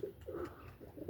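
Pigeon cooing in soft, repeated low calls, a few short phrases in steady rhythm, fairly near but quiet, with no talk over it.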